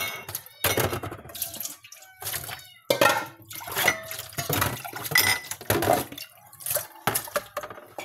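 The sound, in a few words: washing a glass with running water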